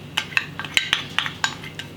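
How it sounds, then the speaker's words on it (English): A spoon scrapes and clinks against a bowl in quick, uneven strokes, stirring a cornstarch mixture, close and clear with no talking. "I'm just going to stir it in"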